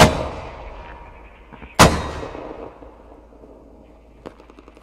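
Heavy artillery blasts in the military shooter Squad: a loud boom at the start, a second sharp detonation about two seconds later with long rumbling decay, then a fainter distant thud.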